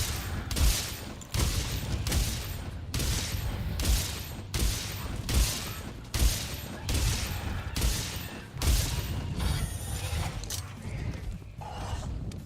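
Bowgun shots in the video game Monster Hunter World Iceborne fire in a steady series of heavy, punchy blasts roughly every 0.8 seconds, with rumbling effects and background noise between them.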